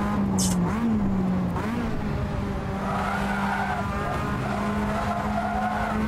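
Race car braking hard in Assetto Corsa on the Brands Hatch circuit, a Mazda MX-5 or 500 Abarth whose tires squeal in a steady, loud skid over the constant engine drone, with someone talking underneath.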